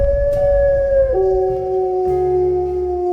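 A long, wavering wolf howl used as a sound effect in a werewolf horror story, rising then sliding down in pitch over a low rumbling drone, loud and sustained with a second layered tone joining near the end.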